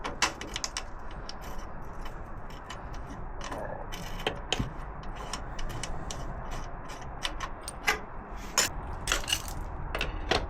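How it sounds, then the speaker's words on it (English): A wrench works loose the 27mm rear wheel spindle nut on a Harley-Davidson, giving irregular metallic clicks, ratcheting and clanks close by in a quiet garage. "Rear wheel spindle, 27mm. I'm undoing the nut on this side."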